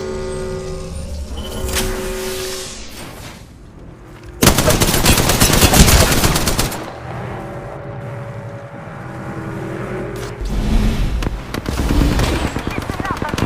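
Automatic weapon fire in the battle royale game Apex Legends, with loud sustained bursts of rapid gunshots breaking out mid-clip and again near the end over a steady game backdrop of engine-like rumble and effects.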